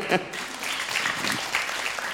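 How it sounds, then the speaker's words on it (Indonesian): Audience applause for Ustadz Hilman Fauzi at an Islamic preaching event, a steady dense clapping that fills the moment, with a voice briefly audible over it. "Tepuk tangan untuk Kak Hilman, boleh? Tepuk tangan dulu."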